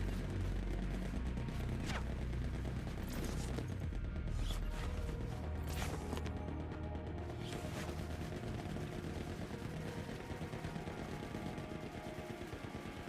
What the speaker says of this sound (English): This is the Spectre M4. Essentially just a 45 SMG.